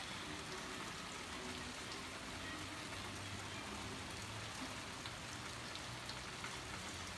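Steady rain falls outdoors ahead of a winter storm, a dense continuous hiss of drops on surfaces throughout, with a faint low rumble beneath and no voices.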